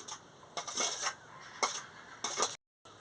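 Cherries, grapes and coconut are stirred into a fruit custard in a bowl, giving a few soft, intermittent scrapes and clinks of a utensil against the dish, fairly faint and close, with no talking.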